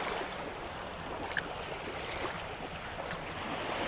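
Surf washes continuously onto Chaweng Beach on Ko Samui, a soft, even roar of breaking waves mixed with wind rumble on the microphone, with no voices.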